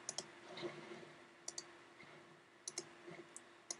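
Crisp computer mouse clicks come in quick pairs and short bursts while working in SketchUp, close and fairly quiet, with no voices.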